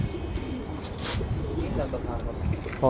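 Pigeons coo softly in a loft or field with low rumbling background noise, a brief higher call near the end; no one speaks over it.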